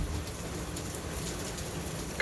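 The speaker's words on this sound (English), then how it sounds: "it's raining really hard over here in Northwest Indiana" Heavy rain pouring outside a garage in Northwest Indiana, a dense, constant hiss of drops drumming on surfaces, steady and loud throughout with no talking.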